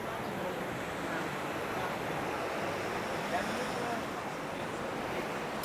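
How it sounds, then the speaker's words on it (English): Surf washing onto a beach on Nusa Penida, a steady broad wash of waves with wind rush, continuous and fairly close, with no distinct breaks. "Oh, this is a nice beach."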